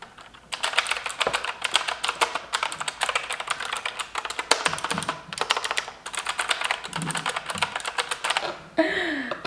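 Rapid typing on a new white computer keyboard: close, crisp key clicks in steady bursts with brief pauses, ending with a short squeaky sound.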